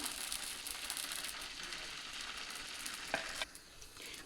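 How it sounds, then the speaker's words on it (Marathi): Thick uttapam batter fries on a hot pan with a steady, fairly quiet crackling sizzle throughout and a few brief scrapes near the end. "आता आपण उत्तप्पा बनवून घ्यायचा उत्तप्पा आपला हा जाड लेअरचाच राहील"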